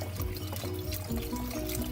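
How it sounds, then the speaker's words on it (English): Water pours steadily into a pot of homemade chicken noodle soup, a continuous close splashing and gurgling that lasts the whole moment. "go and get some water and dump a little bit more water in here."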